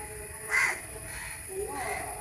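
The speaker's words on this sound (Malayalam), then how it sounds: "കാക്കയൊക്കെ വന്ന് ഇവിടെ ഇരിപ്പുണ്ട്" A single crow caws once, fairly close, over a quiet outdoor background, followed by a fainter call.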